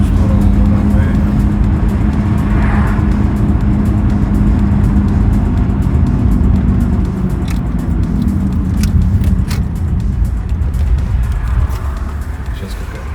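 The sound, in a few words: car with automatic transmission accelerating at full throttle for kickdown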